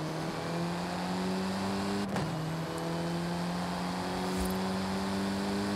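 A car drifting in the Forza Horizon racing game, its engine holding a steady loud drone with strong harmonics throughout, one brief sharp knock partway through, and no voices.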